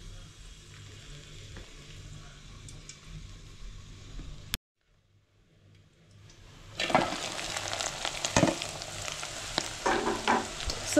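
Small fish that are not true omena sizzling in hot oil over a cooking fire in Kibera, Nairobi, with a quiet low hum at first, then after a brief pause a loud, dense, crackling fry with sharp spits and pops.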